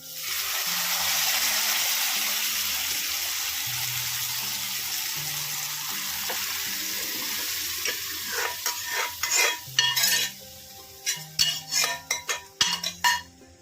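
Boiled dal poured into a hot pan of tempering and stirred in, a steady sizzling hiss that gives way to clattering spoon and pot knocks in uneven bursts, close and clear.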